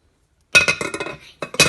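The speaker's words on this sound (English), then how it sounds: "Then you want to put your lid on" A few quick clinks and a short scrape as a lid is set down onto a dish of rice before microwaving, close and crisp.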